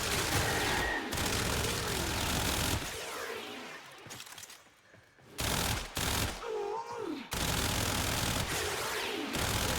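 Soma Prime rifle fire in Warframe, loud dense bursts of rapid automatic shots broken by short pauses, with game effects between volleys.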